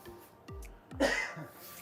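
Two short, sharp coughs close to the microphone, followed by a rougher throat-clearing burst, in an otherwise quiet room.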